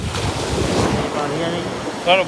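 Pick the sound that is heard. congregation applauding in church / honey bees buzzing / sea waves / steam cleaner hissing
sea waves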